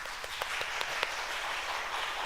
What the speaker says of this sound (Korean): 하나님께 감사와 찬양의 영광의 박수 한번 올려드릴까요?